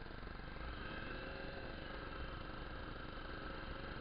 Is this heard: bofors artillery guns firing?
no